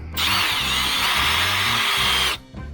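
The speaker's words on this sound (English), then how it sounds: "if you're using a power tool like my trusty Milwaukee here" A Milwaukee power drill driving screws whirs steadily for about two seconds, loud and close, then cuts off abruptly.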